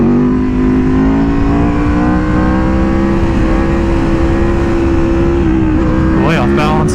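Aprilia Tuono V4R motorcycle engine droning steadily and loud while riding on mountain roads, its pitch climbing slightly as the rider accelerates, with wind noise throughout and a brief burst of higher revving near the end.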